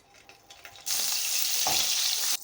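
Oil and butter heating in a kadai for chicken tikka masala break into a loud, steady sizzling hiss that lasts under two seconds and then cuts off abruptly, after a few quiet clicks at the start.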